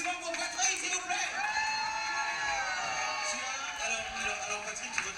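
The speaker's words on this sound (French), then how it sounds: "applaudissements pour Patrick, s'il vous plaît" Crowd cheering and whooping for a man at a regional beauty pageant event, sustained shouts and yells with some clapping, moderately loud and continuous throughout.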